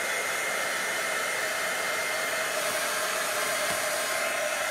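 Heat tool blowing hot air to melt embossing powder on a card, a steady close whirring fan hiss that continues unbroken, with no voices.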